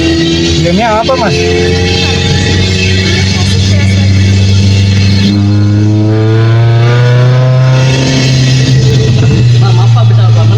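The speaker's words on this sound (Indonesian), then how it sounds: "Suara gamenya mas saya ini berisik kayak knalpot saya mas." Loud, constant engine roar and revving from a racing video game played inside a car, rising and falling in pitch like a noisy exhaust, with voices talking over it throughout.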